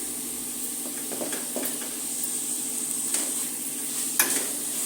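Chopped tomatoes fry in hot oil in a pan for egg biryani, giving a steady close sizzle and hiss with a few soft stirring scrapes and clinks.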